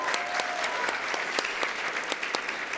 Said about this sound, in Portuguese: Então uma salva de palmas de novo pra ele.